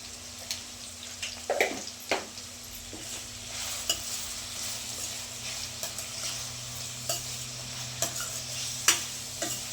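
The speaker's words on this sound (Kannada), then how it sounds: "ಇವಾಗ ಸ್ವಲ್ಪ ಜೀರಿಗೆನ ಸೇರಿಸ್ಕೋಬೇಕು" Cumin seeds crackling in hot oil for hotel-style capsicum chitranna, a continuous close sizzle broken by repeated sharp ladle clinks and stirring scrapes, with no talking.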